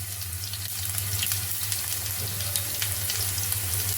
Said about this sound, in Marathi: तेल गरम झालेलं आहे. आपण त्यामध्ये मिरची टाकूया आणि चमचाभर जिरं टाकूया.